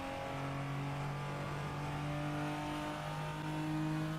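Simulated car engine revving in the Assetto Corsa racing game's Japanese Pack DLC, a steady synthetic engine drone with a rising pitch, heard alone with no talk.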